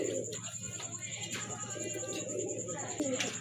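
Soft, repeated pigeon cooing, quiet and somewhat distant, over a faint steady background hum.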